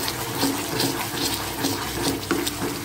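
Water poured into a simmering paneer and pea masala gravy, a steady splashing gush running continuously and close throughout, with no talk.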